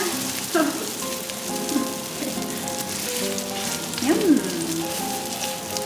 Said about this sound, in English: And now let's flip it.